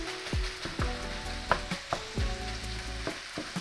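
Ground beef browns in a pan for chili with a steady close sizzle, stirred now and then with scraping spatula strokes that make brief clunks over the frying hiss.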